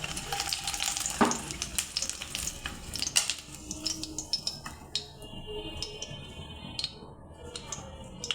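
Eggs lightly frying in hot oil in a pan for an egg and potato dish, a hissing sizzle with sharp crackles and pops early on, quieting somewhat toward the end.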